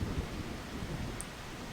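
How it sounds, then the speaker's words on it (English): Heavy rain with thunder in the video game Anodyne 2, a steady dense roar with low rumbling underneath that carries on unbroken throughout. "It's a good thing I made it back from work before the rain picked up."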